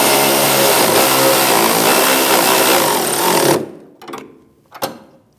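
A ratchet snugs a 15mm sway bar link bolt on a 2016-2025 Chevrolet Malibu, heard as a loud, dense mechanical grinding that runs steadily for several seconds, stops abruptly, then gives two short clicking bursts.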